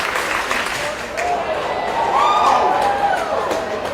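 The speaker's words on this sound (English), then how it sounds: "You're hearing the applause from the runway for the long jump." Applause from spectators along the long jump runway at a national junior track and field championship, a steady mid-level wash of clapping with a faint whistle-like tone, sounding somewhat distant behind the stadium ambience.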